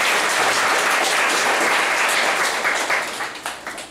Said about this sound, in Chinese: 我们可以鼓掌感谢他一下吗？